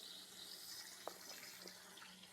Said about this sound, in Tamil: அந்த தண்ணியவே கொஞ்சம் இது கூட சேர்த்துக்கிறேங்க.